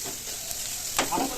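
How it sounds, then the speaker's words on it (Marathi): Sliced onion dry-roasting on a hot tawa griddle gives a steady, soft sizzle throughout, with a brief scraping stir near the end; no one speaks. "तर कांदा असा लाल होईपर्यंत भाजून घ्यायचा"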